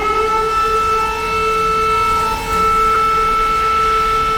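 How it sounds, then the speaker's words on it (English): Air raid siren in Ukraine wails with a steady, sustained tone, loud and continuous across the whole stretch, with no talk. "First air raid siren."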